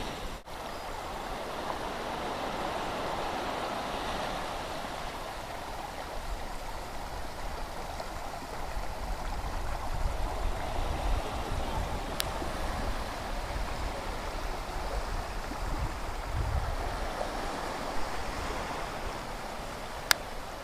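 A river flows steadily with a continuous broadband rush, close and even throughout, with no voices.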